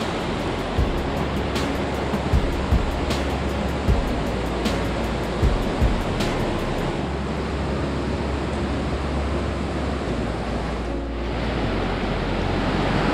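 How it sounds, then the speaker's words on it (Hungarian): River water rushing through the Slizza gorge, a dense, steady roar of fast-flowing current close by, continuous throughout with faint clicks now and then. "Egy csak úgy folyik a víz."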